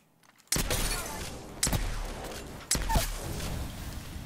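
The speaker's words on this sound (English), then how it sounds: "Oh, there goes the grenade." A grenade explodes in a video game shooter, heard as sharp blasts and bursts amid ongoing gunfire and game noise, with a couple of distinct impacts standing out from the mix.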